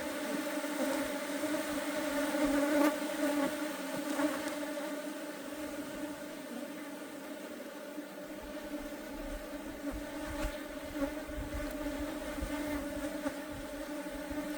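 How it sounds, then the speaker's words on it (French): Honey bees buzzing around a hive in an apiary, a continuous layered droning hum with some bees passing closer, steady and fairly faint. "Ouais, ils construisent pas du tout ces abeilles."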